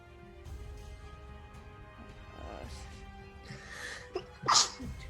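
A sneeze bursts out near the end of a tabletop roleplaying session of Curse of Strahd at a live charity stream, a single sharp loud burst standing out above quiet background chatter and murmuring voices.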